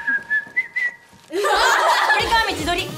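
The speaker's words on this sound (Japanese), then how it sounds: "口笛吹きます" Someone whistles a few short tonal notes near the mic in a playful improvised bit, followed by a burst of bright, busy sound with chatter and laughter.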